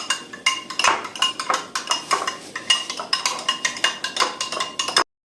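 Egg being whisked with salt in a bowl for anda shami burgers, a fast regular run of utensil clinks and scrapes against the bowl, close and bright, stopping abruptly.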